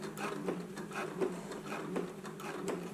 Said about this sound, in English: So now let's go to the machine. We're just going to baste it in place right here along the edge